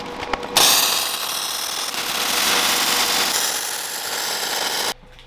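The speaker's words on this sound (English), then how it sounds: "these are just gonna lay right in there and I'll weld them in place" Welding spacer blocks of bent sheet metal into place on a camera arm, a loud, steady crackling hiss that starts abruptly and holds for about four seconds before cutting off.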